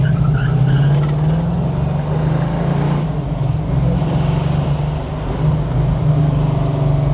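A 1970 Plymouth Cuda 340 engine running on only seven cylinders, with a Flowmaster exhaust, runs steadily and loud, a deep rumbling drone with a rough idle throughout, no voices over it.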